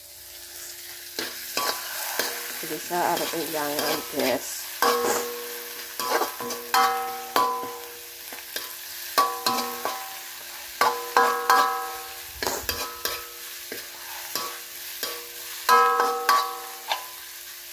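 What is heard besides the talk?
frying food in a pan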